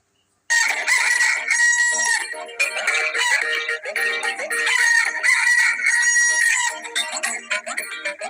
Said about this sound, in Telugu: మంచి కొక్కర కోడి ఉదయమే లేచి ఊరు నెలిపి ఉత్సాహమిచ్చే కోడి